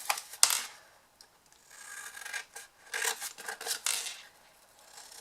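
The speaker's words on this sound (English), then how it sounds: "So we're cutting down these triangle bits." Scissors cutting down triangle-shaped pieces of a paper ornament treat box, close up: irregular bursts of crisp rasping snips and paper rustle, separated by brief quiet gaps.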